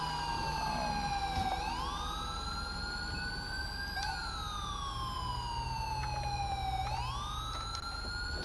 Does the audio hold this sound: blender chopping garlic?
no